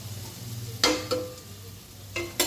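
Masala and spices are sautéed in oil in a pan for Chettinad chicken kuzhambu, giving a soft steady sizzle broken by a few sharp scraping stirs and clanks of a spoon against the vessel.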